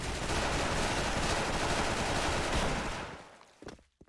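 Special Force gunfire from an online shooter roars as a dense, loud volley for about three seconds, then fades out, leaving a few last isolated cracks.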